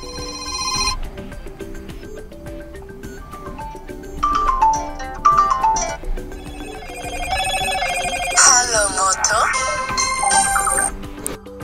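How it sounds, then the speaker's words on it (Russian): A standard ringtone plays on a Motorola E6 Play phone, a loud, bright electronic melody of repeated tonal phrases that grows busier toward the end, with a voice speaking at times. "стандартный рингтон"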